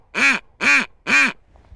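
Duck call blown with mouth air only rather than from the diaphragm, giving three evenly spaced nasal quacks, close and clear, each about a quarter second long, with silence between.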